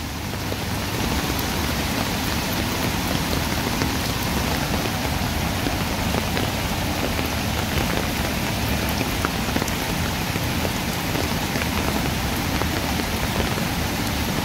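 Heavy monsoon downpour in Konkan, with the Kajali river in flood nearby: a loud, dense, unbroken roar of rain pouring on surfaces, steady throughout with no voices.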